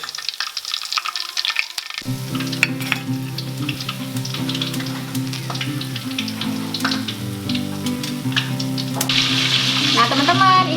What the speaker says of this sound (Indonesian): ini dia ikan baby tuna yang sudah kita goreng tadi